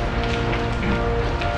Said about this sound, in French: il commence à pleuvoir là.